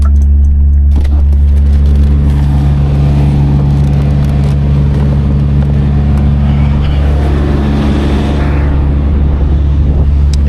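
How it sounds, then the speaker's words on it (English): A refrigerated trailer's fridge motor runs loud and close, a constant low droning hum with steady tonal layers that never lets up, with no talking over it. "the fridge has got a motor running, as you can hear"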